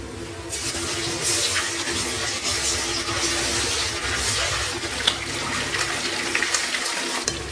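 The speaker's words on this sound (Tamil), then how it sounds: "இந்த சிக்கனை கொஞ்சம் கொஞ்சமாக போட்டு பொறிச்சு எடுத்துக்கலாம்" Marinated chicken pieces frying in hot oil give a steady, loud sizzling hiss with scattered crackles throughout, no talking.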